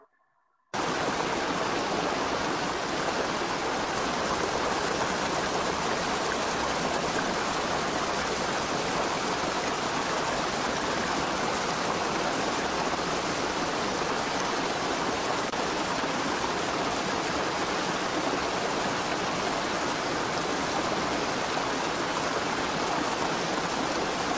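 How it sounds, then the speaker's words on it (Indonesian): A waterfall gives off a steady, dense rush of falling water that starts abruptly and runs on without a break, loud and close, with no voices. "Next, kita akan dengarkan suara air terjun ya."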